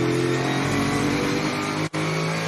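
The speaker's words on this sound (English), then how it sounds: "Oh, the LS power plant sounds sweet between the chassis rails," Onboard a Hi-Tec Oils Super Series innovation race car at Queensland Raceway, its LS V8 engine roars loud and steady, holding a sustained drone with a brief cut near the end before resuming.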